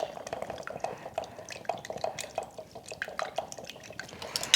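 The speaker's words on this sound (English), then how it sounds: "with a fork, I'm just going to break that egg up, whisk that egg with the vinegar" Fork whisking an egg with vinegar in a bowl for a pie crust, a quick series of light, wet clicks and taps against the dish, faint and close, with no talk.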